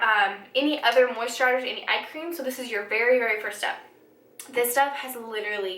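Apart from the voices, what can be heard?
No distinct noise like a dog, phone or traffic.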